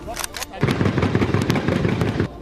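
Gunfire and artillery during a battle in Mali, sharp sporadic cracks followed by rapid bursts of shots, heard under a voice talking over the fighting.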